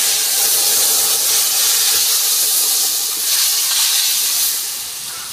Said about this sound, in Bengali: এবার আমি মাংসটা ঢেলে দিচ্ছি।